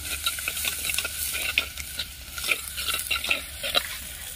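Small onions sautéing in a clay pot, a soft frying sizzle under repeated scraping stirs of a spoon, close and moderately quiet.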